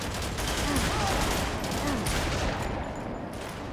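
Sniper rifle gunfire in the video game Haze, a dense continuous roar of shots and battle noise at moderate loudness, with faint voices mixed in.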